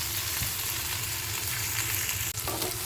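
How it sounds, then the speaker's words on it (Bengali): Okra (bhendi) fries in a pan with a steady, fairly loud hiss and bubbling sizzle, plus a brief clatter near the end as the pan or contents shift, no talking. "চলো ফ্রাই করে নিই, তারপর আবার তোমাদের কাছে আসছি।"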